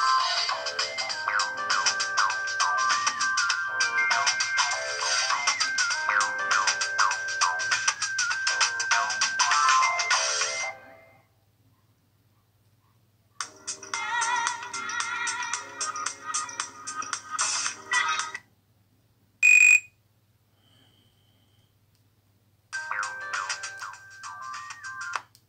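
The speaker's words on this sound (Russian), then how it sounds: "Давайте рингтоны." Ringtone melodies play from a Nokia mobile phone, several bright electronic tunes one after another with short silent gaps between them, close and clear, with no talking.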